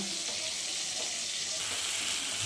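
A paste of ground ginger, cumin and green chili sizzles in hot oil in a pan, a dense, even hiss of frying heard close up and alone.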